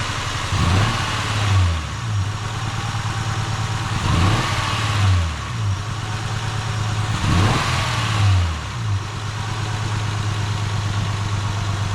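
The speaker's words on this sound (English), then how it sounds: "we'll rev the engine." A Honda car engine with a high or sporadic idle problem, revved in three repeated rising and falling bursts over a steady idle hum, close and loud.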